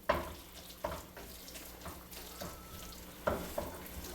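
Vegetable tomato sauce being stirred in a pan, with soft scraping and wet squelching strokes that come in irregular bursts over a faint background sizzle, fairly quiet and close.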